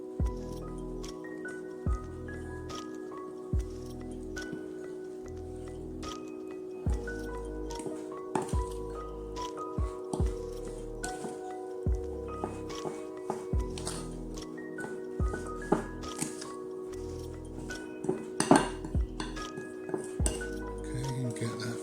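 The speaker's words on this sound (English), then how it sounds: "And then we're just going to stir that all together." A spoon stirs a ginger cookie mixture with butter and syrup in a bowl, giving repeated rhythmic scraping knocks against the bowl, close and clear, with no talk.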